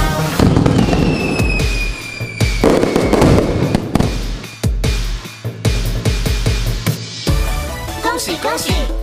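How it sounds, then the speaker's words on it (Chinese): Fireworks and firecrackers crackle and burst repeatedly as a sound effect inside a Chinese New Year song, mixed loudly with singing and music. "冲天炮一声咆哮，越流星飞越乱闪耀，烟火飘空中炫耀"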